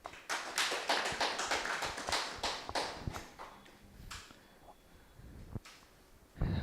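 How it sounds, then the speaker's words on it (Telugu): Applause from a class audience at a Gurusthan meditation session, dense clapping for the first few seconds then thinning into scattered claps and fading away. "ఈరోజు ఇక్కడ ఈ క్లాసు చెప్పడానికి నాకు ఆహ్వానించిన ఈ గురుస్థానం వారికి గట్టిగా చప్పట్లు కొడదాం."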